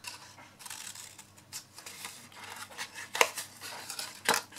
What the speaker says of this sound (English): So for your lid, you need to cut this centre piece here into tabs.